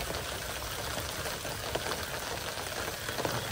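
Turmeric, red chili and masala powder sizzle in a hot pan at a lakeside monsoon campsite, a steady, soft broadband hiss with faint crackles running throughout, no voices.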